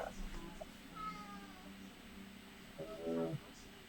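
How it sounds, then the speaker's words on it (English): A house cat meowing indoors, two or three faint drawn-out meows close to the microphone, the last one louder and wavering. "I'm sorry if you can hear my cat meowing."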